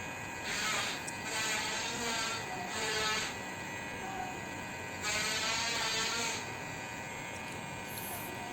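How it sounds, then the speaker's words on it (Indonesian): Electric hair clipper with its lever closed buzzing steadily through a close fade, the snipping-buzz texture swelling in several bursts as strokes pass over the head, near and alone without talk. "Kita blending lagi menggunakan clipper dengan tuas tertutup."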